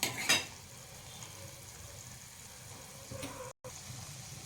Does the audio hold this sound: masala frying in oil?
yes